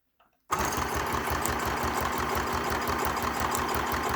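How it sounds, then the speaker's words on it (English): A sewing machine runs a zigzag stitch around small journal covers, starting abruptly after a brief silence and then chattering in a fast, even, steady mechanical rhythm, close and continuous. "stitch up these covers using the zigzag stitch"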